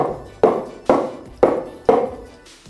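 Four firm, evenly spaced knocks of a batter-filled cake tin with cashews against a surface, each a close, sharp tap with a brief metallic ring fading out.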